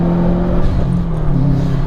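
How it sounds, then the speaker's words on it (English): Subaru WRX hatchback fitted with a Cobb SF intake, engine revving under a third-gear pull, a loud steady rising drone heard from inside the car with no talk. "We'll do a little third gear pull"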